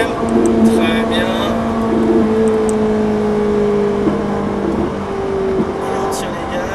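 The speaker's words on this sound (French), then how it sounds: "on accélère à la sortie, allez on y va" A Ferrari 458 Italia pulls hard out of a corner on a race circuit. Its engine note climbs and drops through gear changes, heard from inside the car, while a voice talks over it.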